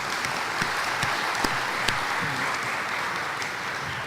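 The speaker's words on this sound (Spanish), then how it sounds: "le damos la bienvenida y pedimos un aplauso" Steady, even applause from a seated morning audience welcoming a Jesuit priest as a lecture begins, moderately loud with a few sharper individual claps standing out, no speech over it.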